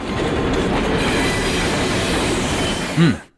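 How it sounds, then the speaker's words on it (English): A train runs along a railway line beside a trailer, a loud, close, continuous rumble with rattling cars and a brief wheel squeal near the end before it quickly drops away. "Dennis Hopper's living in a trailer right on the edge of a train line"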